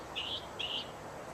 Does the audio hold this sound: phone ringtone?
no